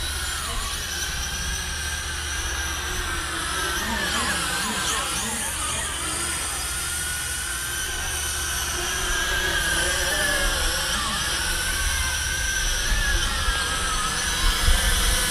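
A small FQ777 FQ02W foldable FPV drone flies outdoors in a breeze, its propellers giving a continuous high whine that rises and falls in pitch, heard alone without talk.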